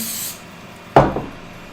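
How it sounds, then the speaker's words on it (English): Cooking spray hits a crepe pan off the heat in one short, sharp hiss after a quiet pause, then quickly fades. "next, again, we'll do a little spray action"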